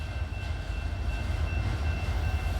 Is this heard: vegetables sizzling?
no